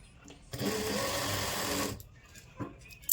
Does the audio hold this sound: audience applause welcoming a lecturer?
no